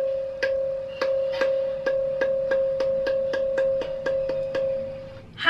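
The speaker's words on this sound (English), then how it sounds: "And here is a sound similar to a school bell." A musical stone pillar at Hampi, India, struck over and over in a quick, even rhythm, each tap adding to one steady sustained tone much like a ringing school bell, close and clear with no voices.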